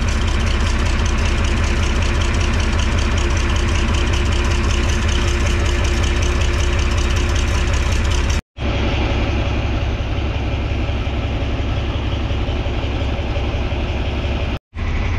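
A tractor engine idles steadily beside a feed auger being moved with its extension out, loud and continuous with two brief dropouts near the end.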